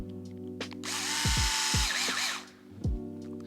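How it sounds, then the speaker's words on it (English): A small electric hex driver with a 2mm bit whirs steadily for a couple of seconds while driving a screw into an RC car's suspension during assembly, with a few sharp clicks and knocks before and after. "Switching back to the 2mm hex driver for this operation."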